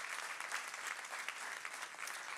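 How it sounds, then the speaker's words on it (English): Steady applause from an audience at a talk on talent development and the economy, a dense, even patter of clapping that holds at one level throughout. "can I get a round of applause for my amazing team?"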